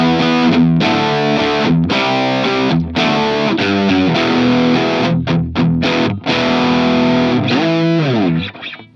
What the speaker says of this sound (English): where this pedal really shines is when you crank the gain to sort of 3 o'clock